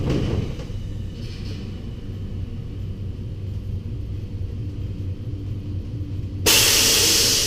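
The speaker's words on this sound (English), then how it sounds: "we're going to close the lid and let it spin" A wheel balancing machine spins a wheel under its closed lid, giving a steady low rumbling whir that builds into a loud, bright rushing whine near the end.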